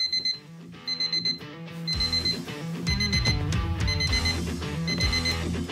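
An alarm clock rings in repeated bursts of shrill electronic beeps, steady and fairly loud throughout, layered over a fuller musical backing with no voices.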